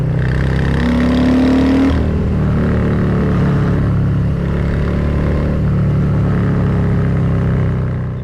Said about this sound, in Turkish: Bir de üçte şöyle bir gaz açalım.